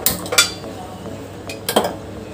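Metal pot and utensils clink and clatter near a gas stove while sugar syrup is started, with a few sharp bright knocks spread across a quiet kitchen background, no talking.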